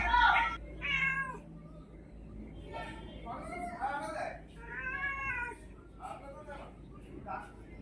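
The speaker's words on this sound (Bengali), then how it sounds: "আমার পুষু সোনাটা এসেছে, কোথায় উঠে বসেছে দেখো, আর ওখান থেকে মা মা করে যাচ্ছে দেখো" A cat meows repeatedly in a home kitchen while fish is being cooked in mustard oil, its cries mixed with a voice talking over background kitchen noise.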